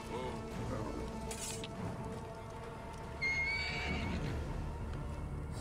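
A horse in the Egyptian setting of the video game Assassin's Creed Origins lets out a sharp neigh amid clip-clop and in-game combat ambience. There is no talk over it.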